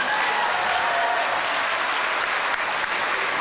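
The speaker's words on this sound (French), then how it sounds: "Sous vos applaudissements." An evening tribute audience gives a sustained burst of dense, even applause, loud and close throughout.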